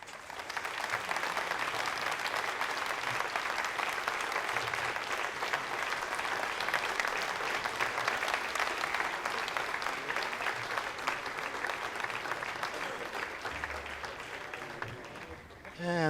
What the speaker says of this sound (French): Des applaudissements ici à Jupiter, car Ariane 5 vient de libérer son deuxième passager,